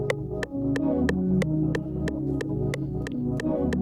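A synth lead pattern steps through notes over a steady beat, with crisp regular ticks marking the rhythm and a faint melodic line on top.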